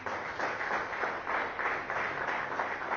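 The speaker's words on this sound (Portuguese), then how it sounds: "Você pode dar mais um aplauso ao Senhor Jesus?" A church congregation gives an applause to Jesus, a dense, sustained roar of many hands clapping at once, even in level from start to finish.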